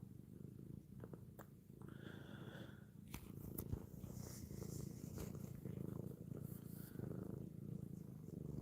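A cat purrs close by, a steady, continuous rumbling that runs for several seconds at low volume with no voices over it.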